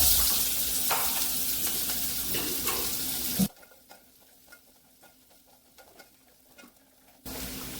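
Onion frying in hot oil with bay leaf, star anise and cinnamon for a chicken curry base, a loud steady sizzle with stirring scrapes that drops to a quieter hiss with faint clinks, then the loud sizzle returns.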